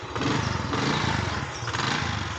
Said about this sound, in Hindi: बाइक मेरी स्टार्ट हो गई है